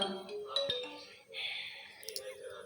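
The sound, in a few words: phone ringing repeatedly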